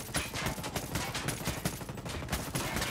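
Gunfire from the video game Ghost Recon Wildlands with a weapon set to burst fire, a dense, loud stretch of rapid overlapping shots packed tightly together.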